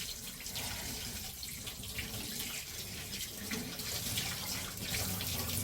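Dyed fabric is rinsed under a running tap, giving a steady, close, continuous gush of water with fluctuating splashing throughout.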